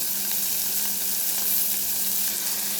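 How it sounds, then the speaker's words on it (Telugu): Green chillies and chopped onions sizzle loudly in hot tempering oil inside a pressure cooker, a close, continuous hiss of frying with a faint stir now and then. "ఇలా పోపు పెట్టుకున్నాక మనం సన్నగా తరిగిన పచ్చిమిర్చి ముక్కలు మనం చాప్ చేసుకున్న ఆనియన్ ముక్కలు"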